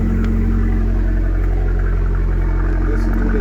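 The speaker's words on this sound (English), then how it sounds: "Listen to the exhaust system" An Abarth 595c convertible with an MTA gearbox and a Record Monza stage 2 exhaust drones on a ride with a loud, steady low engine rumble, heard from close by from inside the car with no talking.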